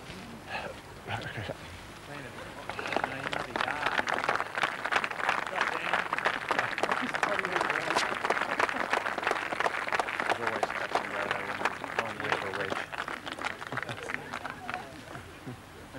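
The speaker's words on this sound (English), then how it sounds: "Take the applause." Golf spectators at a 1994 pro-celebrity tournament at Loch Lomond applaud steadily from mid-distance, a dense wash of clapping that swells after a quieter start and carries on under a commentator's voice.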